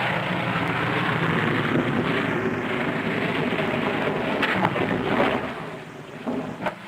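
A ski-equipped plane lands on Antarctic ice on one engine with its starboard propeller dead, heard as a loud, steady engine and wind drone that eases off slightly near the end.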